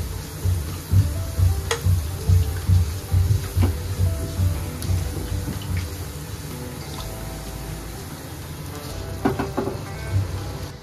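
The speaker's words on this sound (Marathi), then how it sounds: "या साईडने आपल्याला तेल घालून असं तळून घ्यायचंय" Maharashtrian gharge sizzling in hot oil in a pan, a steady crackling hiss with occasional sharper pops, close and continuous throughout.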